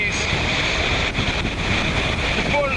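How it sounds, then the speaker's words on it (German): Strong wind and high Atlantic waves roar steadily around a racing sailboat doing about 30 knots in 30-knot wind, a dense continuous rush of spray and wind buffeting the microphone throughout. "Atlantik, 30 Knoten Wind, 30 Knoten Bootsgeschwindigkeit,"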